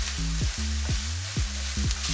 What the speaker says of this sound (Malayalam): ഈ സവാള ഒരു ലൈറ്റ് ബ്രൗൺ കളർ ആകുന്നത് വരെ വഴറ്റണം.